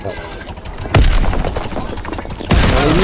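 Shotgun blasts in the World War II shooter Call of Duty WW2: two loud, sharp booms about a second and a half apart, each with a broad crack and a ringing tail over a busy backdrop of battle noise.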